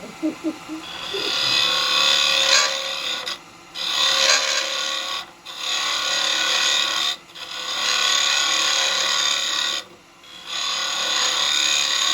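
A GT SCH 4 carbide chisel hollows and undercuts a wooden bowl on a spinning lathe, making a loud, steady rasping cut broken by several brief pauses.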